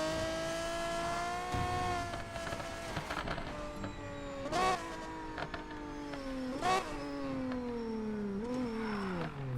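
An Aston Martin Vulcan race car engine in Need for Speed Payback whines and revs through rising and falling gear changes, with a thin high gearbox whine riding above the steady drone, no voices.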